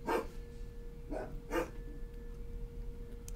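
A small female dog barks three times behind a bus, loud and fairly close, two barks coming in quick succession after the first, over a steady low engine hum.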